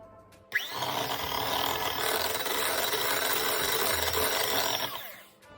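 Butter and eggs for keto red velvet cupcakes are whisked with an electric mixer, a steady whirring buzz running about five seconds before winding down, close and without talk.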